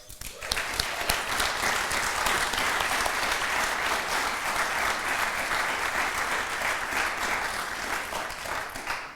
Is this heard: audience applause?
yes